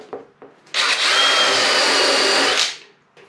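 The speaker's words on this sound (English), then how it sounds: "So for the corners, I just use a step drill." A step drill whines loudly for about two seconds as it bores through door panel material, preceded by a couple of short taps.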